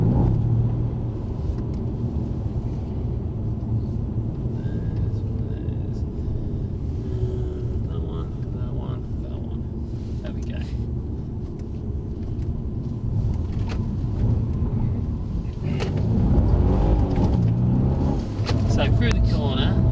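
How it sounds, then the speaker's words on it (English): A Mercedes-AMG car driven on the Brooklands track in London, its engine a steady rumble that swells with acceleration toward the end, heard under continuous talk from inside the car. "So through the corner, bit of power, turning in, increase the power now, keeping it wide"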